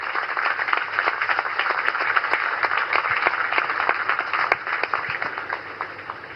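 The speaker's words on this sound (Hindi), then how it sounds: "जोरदार तालियों के साथ उनका स्वागत करें।" An audience welcoming Prime Minister Narendra Modi at an Indian Navy event breaks into dense, sustained applause, many hands clapping together at close range. The clapping holds strong throughout and fades slightly toward the end.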